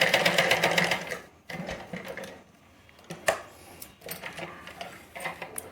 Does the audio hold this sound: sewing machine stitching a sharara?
yes